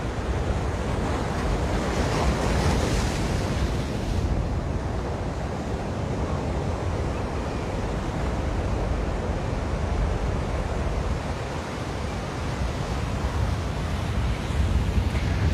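At the Ala Moana Beach lagoon in Hawaii, strong wind buffets the microphone over a constant roar of surf, loud and unbroken throughout, with no voices.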